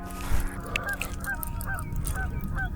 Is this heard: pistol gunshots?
no